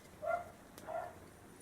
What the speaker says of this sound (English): Excuse my dogs being loud.